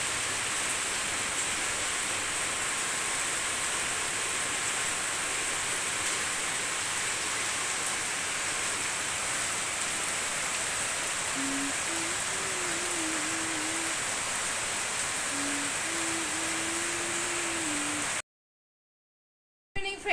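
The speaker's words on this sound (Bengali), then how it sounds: "এই শুতে গেছি, আঝড়ে বৃষ্টি নেমে গেল, তাই তোমাদের সাথেও শেয়ার করলাম।" Heavy rain pours steadily in a dense, even hiss over a house at night, continuous and loud for most of the stretch before cutting off abruptly, with a faint tonal hum partway through and no voices.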